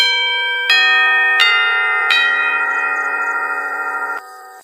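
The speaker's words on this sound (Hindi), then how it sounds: "देखते ही देखते आधे घंटे में दरवाजे की घंटी बजती है" A house doorbell rings with a sequence of bright, sustained chime tones, four strikes layered and ringing on before stopping abruptly, loud and clear.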